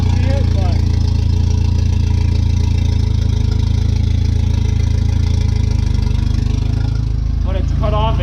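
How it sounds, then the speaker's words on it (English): A loud, low Mitsubishi Evo engine with an open downpipe rumbles steadily at idle, slightly uneven, with a brief rise in pitch near the end as it revs. "Struggle to idle there, but that's okay"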